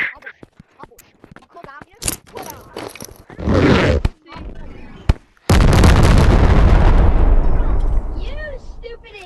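Rocket launcher blasts in the game Animal Company: loud, sharp booms and rumbling explosions, one long roaring blast that fades out, mixed with other short bursts and pops near and loud.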